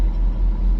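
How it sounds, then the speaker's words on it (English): Air conditioner running inside a parked truck on a hot day, a low steady rumbling hiss filling the cab with no other sounds. "that white noise you hear is my air conditioner"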